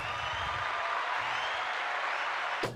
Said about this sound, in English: You get a hand clap for that